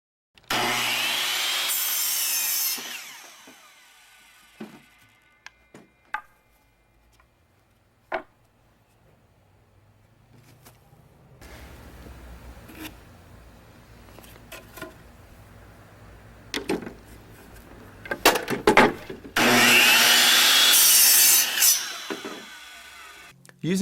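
Wooden deck legs for a halfpipe being cut with a power saw, loud close bursts of sawing at the start and end, separated by quieter knocks, rubbing and handling of the wood.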